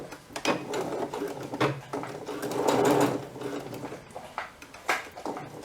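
A sewing machine stitching a straight dress hem runs in bursts of rapid mechanical chatter, stopping and starting several times, close and moderately loud.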